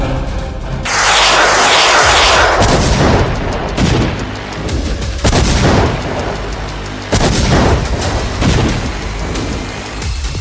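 Artillery guns fire during a Russian military exercise, with several loud booming blasts in quick succession, each followed by a rumbling echo, and no voices.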